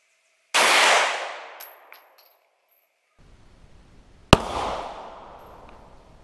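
A Glock 17 pistol firing Speer Gold Dot rounds, two sharp loud shots a few seconds apart, each with a quick ringing decay; no talking.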